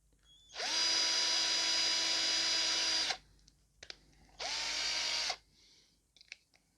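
A borrowed power drill whirs loudly in two sustained bursts while drilling a Rubies Ghostbusters ghost trap toy, the first about two and a half seconds long and the second shorter, with small clicks and handling noises in the pauses, close up.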